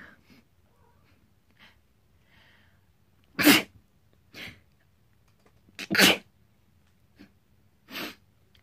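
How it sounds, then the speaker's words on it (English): A person sneezes several times indoors, a few sharp bursts a second or so apart, close and loud against a quiet background, with a couple of fainter sniffs between them. "I have to sneeze."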